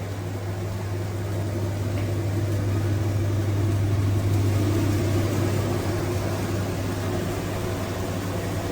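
A steady, even whir of an Arçelik glass built-in cooker hood fan running on its second speed, constant hum with airy noise, no talking.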